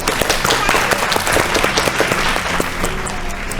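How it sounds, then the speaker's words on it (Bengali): Loud, dense applause from a studio audience on a Bengali family game show, sustained clapping throughout at close range, filling the whole stretch. "জোরে হাততালি।"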